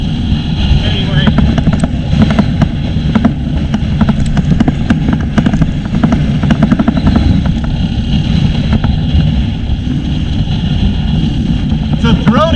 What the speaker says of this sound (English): It's a throaty little 4-stroke for a 250.